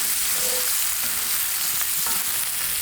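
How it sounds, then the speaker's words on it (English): Bacon and onions frying together in a pan, a steady dense sizzle that stays loud and close throughout with faint clinks of a utensil and no talking. "We got our bacon going. We're gonna add some onions."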